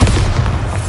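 A short, heavy boom from the Bombarda explosion spell in Hogwarts Legacy, loud and close with a deep low-end rumble filling the brief moment.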